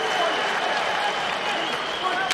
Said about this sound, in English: The crowd of St. Petersburg getting behind their fighter.